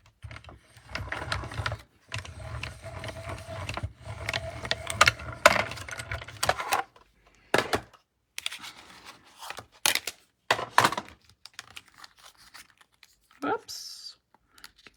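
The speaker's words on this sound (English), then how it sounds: "I'll just die cut this." A manual die cutting machine grinds and clicks in uneven bursts as it runs two-tone cardstock through to cut a word shape, with pauses of near silence between the cranking sounds.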